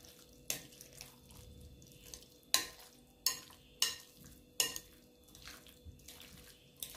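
A spoon stirring sauce in a pan, sharp scraping strokes and knocks against the metal at uneven intervals over a faint background sizzle.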